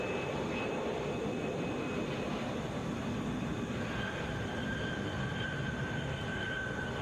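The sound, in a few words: Boeing 757 arriving at Atlanta International Airport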